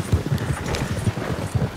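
Horses trot with clip-clopping hooves in Red Dead Redemption 2, an irregular series of soft, low thuds over a steady background, with no talk.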